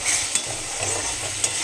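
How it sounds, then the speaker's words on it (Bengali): Spice masala sizzles hard in a pan for chicken kosha, a dense, close hiss broken by two sharp scrapes of a stirring spoon. "মশলা কষাচ্ছি।"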